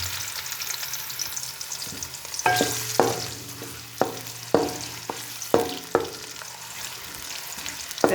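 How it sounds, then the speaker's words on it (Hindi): Onions sizzle in a pan with a steady crackling hiss, added to hot potatoes. Several sharp scraping stirs of a spoon against the metal break through in an irregular rhythm, close up. "प्याज को हल्का ब्राउन होने दें।"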